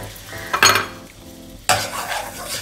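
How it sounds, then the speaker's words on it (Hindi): Flour and butter are stirred together in a kadhai on the stove, with scraping spoon strokes and sizzling in two loud bursts over a low cooking hiss, no talking. "जब मैंने इसको मैं मिक्स कर रही थी फ्लोर को और मक्खन को एक साथ"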